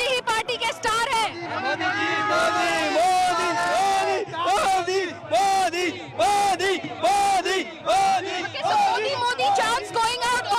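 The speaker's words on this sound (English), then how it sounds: "Modi chants going out over here." At an Ahmedabad road show, a large crowd chants Modi's name loudly and repeatedly in a steady rhythmic call, voices rising and falling in unison with a general hubbub between chants.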